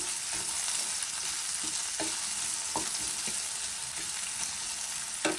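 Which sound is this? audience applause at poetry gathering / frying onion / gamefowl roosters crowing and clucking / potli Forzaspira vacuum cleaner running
frying onion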